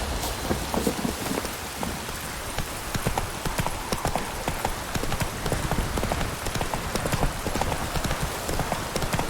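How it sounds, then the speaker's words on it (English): Continuous video-game rain in The Witcher 3: Wild Hunt pattering densely on a surface, with scattered sharper drops and taps throughout, fairly close and steady. "Let it rain."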